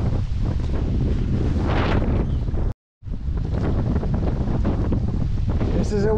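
Strong wind roars across the microphone during a canoe trip down a river, a loud continuous buffeting gust with a brief dropout midway, water sounds faint underneath and a voice briefly heard near the end.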